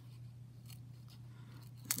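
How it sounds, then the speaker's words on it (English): Scissors cut through stiff tooling leather for a model horse saddle, giving a quiet, steady crunch with a few snips and a sharper cut near the end, over a low hum. "Feed it into the scissors."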